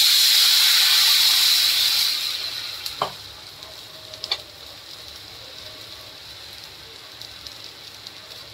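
Water hits a hot pan of onion and asafoetida with a loud burst of hissing sizzle that fades over two seconds into quiet, followed by a few soft clinks.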